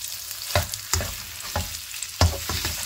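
Chicken and beef mince frying in a pan, with a steady sizzle broken by several loud scraping stirs of a spoon across the pan, close and without speech.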